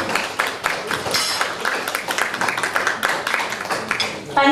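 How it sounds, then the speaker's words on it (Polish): Audience at an Easter gathering of a University of the Third Age in Kałuszyn applauds steadily and fairly loud for the whole stretch, a dense, even wash of many hands clapping. "Duże brawa."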